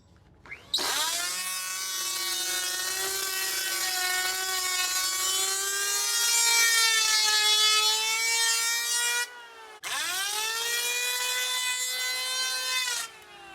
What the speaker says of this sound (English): so now I'm gonna plane the board